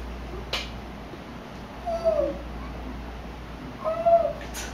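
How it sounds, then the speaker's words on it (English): Two soft, hooting calls spaced a couple of seconds apart, quiet and somewhat distant over a low, steady background hum. "It's the owl."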